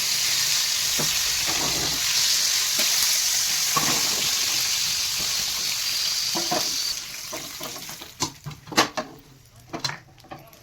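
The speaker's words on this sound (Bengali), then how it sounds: "এই আমার অল্প ভাজা হয়ে গেছে মাছগুলো" Pekal fish fry in a pan, giving a continuous close sizzle for most of the stretch that fades out toward the end, where scattered clinks and scraping sounds take over.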